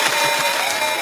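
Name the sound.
applause for talk show guest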